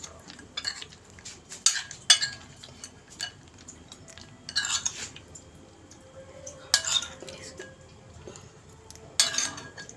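Methi bondiya, small sweet fried gram-flour drops soaked in syrup, scooped with a spoon into a container, giving scattered clinks and scrapes of metal on a dish at irregular intervals, close and fairly quiet.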